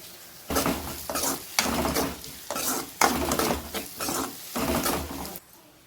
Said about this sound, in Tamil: வெங்காயம் நல்லா வதங்கினதுக்கப்புறம் தக்காளி ஆட் பண்ணிக்கோங்க.